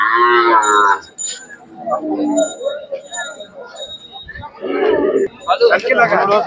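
Khillar cattle at the Sangola livestock market, with loud nearby moos and lowing calls at the start and end amid crowd noise, bells and people talking.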